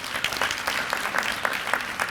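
A crowd claps for parents at the Dearborn City Beautiful Commission 2023 kick-off event, with dense, even applause from many hands at moderate volume and scattered louder individual claps, no voices.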